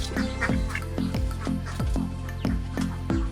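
Ducks on a farm quack in a steady run of loud, close calls, roughly two per second and evenly spaced, with no other sound.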